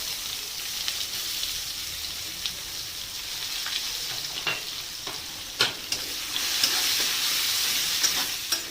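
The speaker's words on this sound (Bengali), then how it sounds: "পেঁয়াজটা বাদামি করে ভাজতে হবে" Chopped onions frying in hot oil with cumin seeds and bay leaf, giving a continuous sizzle and crackle, with occasional scraping stirs in the pan that grow louder toward the end.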